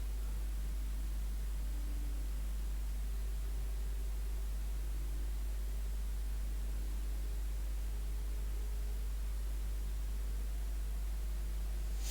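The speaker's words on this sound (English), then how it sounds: "We continue to listen to the raindrops pour." Steady, even hiss of video game rain falling, soft and continuous with no distinct drops standing out, under a constant low hum. No voices.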